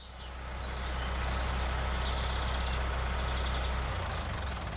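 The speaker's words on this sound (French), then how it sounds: "Au petit matin, un tracteur freine enfin à sa hauteur." A farm tractor's engine rumbles at a low, steady idle close by, with a faint hiss of braking as it comes to a stop, and no voices.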